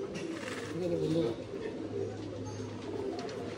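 Pigeons coo softly in a loft, low burbling calls repeating under someone talking nearby.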